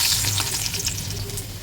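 Garlic frying in hot oil in a wok on a gas stove for an Assamese fish curry with mustard seeds: a steady, close crackling sizzle with irregular pops and spits, no voices.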